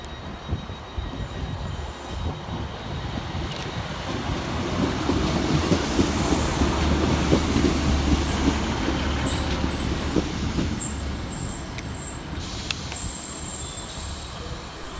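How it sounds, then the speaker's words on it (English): Transport for Wales class 150 diesel unit pulling into a station platform, a steady rumble of wheels and engine with rail squeal building and easing over about fifteen seconds, fairly close and without talk. "Arriving next into the station will be 150-284, working the 1530 Transport for Wales service from Aberdare through to Merthyr"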